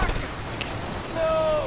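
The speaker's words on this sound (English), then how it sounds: "And then shoot it." Gunfire in the video game Just Cause 2, shooting at a propane tank with a person attached to it: a sharp opening shot, then a rumbling game soundscape with a rising tonal whine near the end.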